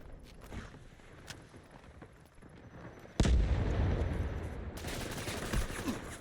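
M7 rifle gunfire in the shooter game Delta Force: faint scattered shots at first, then a sudden loud burst of rapid automatic fire and explosive blasts that continues densely to the end.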